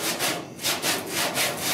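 Body filler on the dash and firewall of a 1966 Ford F100 is block sanded with 80 grit sandpaper, giving rhythmic, raspy back-and-forth strokes, about five passes, close and steady with no talking.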